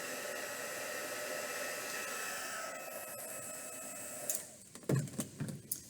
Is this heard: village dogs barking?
no